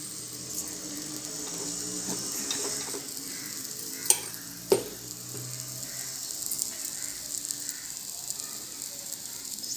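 Mixed dal appe batter frying in oil in an appe pan, a steady close sizzle with a couple of sharp clicks from the pan or utensil.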